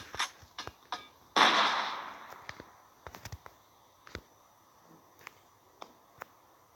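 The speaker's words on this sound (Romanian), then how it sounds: "Și aici o să dăm cu grenade." Grenade blasts in the mobile shooter Critical Ops: one bigger muffled burst followed by scattered short sharp pops and cracks, fairly quiet, with no talking.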